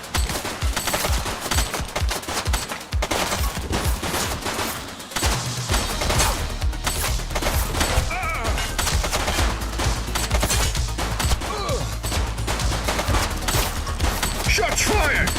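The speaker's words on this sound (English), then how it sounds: "Shots fired!" Sustained gunfire rattles through a police shootout in the game The Precinct, with dense automatic bursts and overlapping shots going on almost without a break, loud and close.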